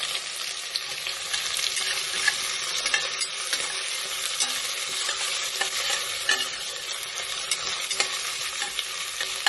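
Onion with crushed ginger and garlic frying for a Kerala-style beef biryani, a steady close sizzle with bursts of stirring and scraping running the whole time, no voices.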